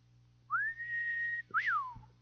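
A man whistles through his teeth: two clean tones, a long rising then level note followed by a short swooping rise-and-fall, alone with no talk.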